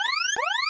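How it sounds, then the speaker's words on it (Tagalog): An in-game alarm in Minecraft gives two rising electronic siren sweeps in quick succession, loud and clear with no talking. "Ayun, teka, nag-a-alarm na naman."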